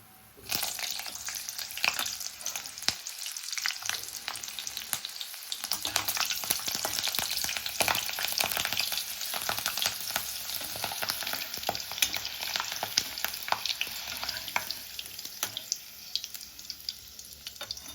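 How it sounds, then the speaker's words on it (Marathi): Green chillies fry in hot oil for a Maharashtrian matar kachori, a steady crackling sizzle that runs throughout with occasional stirring clinks, close and continuous, with no talking. "मी एक चार हिरव्या मिरच्या ज्या आहेत त्या तळून घेऊया"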